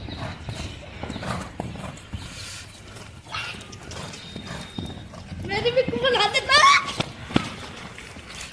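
A nine-year-old Thoroughbred mare walks along a training ring, her hooves clip-clopping in a steady rhythm close by, while people talk over the footfalls and a brief whinny-like squeal rises near the end.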